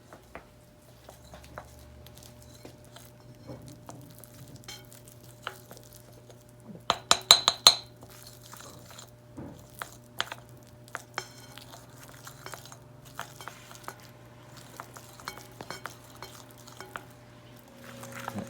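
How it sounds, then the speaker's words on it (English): A wooden spoon works through a thick gingerbread scrub mixture in a bowl, making soft repeated scraping strokes with scattered clinks and a brief cluster of sharper taps midway. The sound is close and fairly quiet over a low steady hum. "then we're going to mix it to get some air into it"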